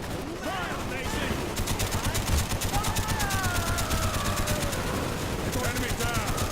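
Rapid machine-gun bursts and scattered rifle shots in a Vietnam War video game, loud and sustained, with voices shouting over the combat.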